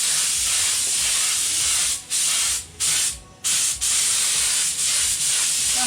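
Steady, loud hiss of an aerosol spray laying a light coat on timber floorboards in a VW Kombi, running continuously with a few short breaks as the nozzle is released and pressed again.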